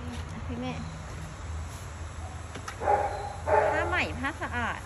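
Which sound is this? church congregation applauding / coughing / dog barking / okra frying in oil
dog barking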